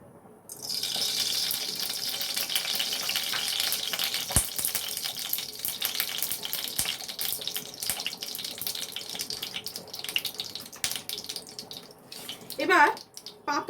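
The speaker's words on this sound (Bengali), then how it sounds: "এইবারে ফার্স্ট কাজ হলো আমার, কড়াতে সর্ষের তেল দেব।" Mustard oil pouring into a wok for a papad curry, a steady hissing, splashing stream that fills most of the clip and closes with a brief clatter.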